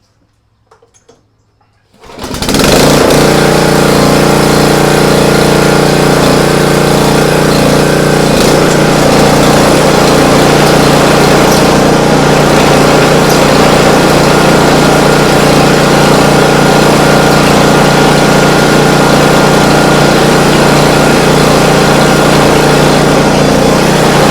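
After a moment of near quiet, the small engine of a Swisher 44-inch rough-cut mower starts with its blades disengaged. It then idles loud and steady at close range, droning on without letup.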